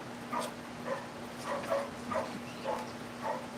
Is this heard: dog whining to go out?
yes